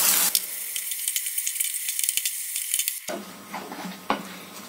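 Jaggery and grated coconut frying and being stirred in a pan, with a steady sizzle and irregular scraping strokes of the spoon close by, the sizzle dropping lower partway through.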